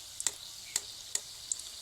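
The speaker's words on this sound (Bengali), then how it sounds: "আমার কড়াইতে যেরকম ফুটছে ঠিক সেরকম কিন্তু ফুটতে হবে সিঙ্গারাগুলো" Cauliflower samosas deep-frying in bubbling oil in a kadai, heard as a soft, even sizzle broken by four sharp, crisp pops, with no one speaking.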